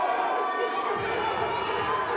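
At a powerlifting meet, a crowd cheers and shouts continuously for a lifter at a team championship, a dense roar of voices held at steady volume throughout.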